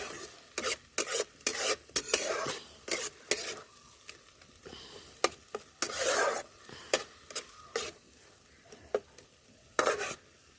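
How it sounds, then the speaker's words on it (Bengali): Spice masala for a raw banana kofta curry is stir-fried in a pan, with repeated close scraping and rasping spatula strokes in irregular bursts over a faint sizzle. "এবার মশলাটাকে ভালো করে কষিয়ে নিতে হবে।"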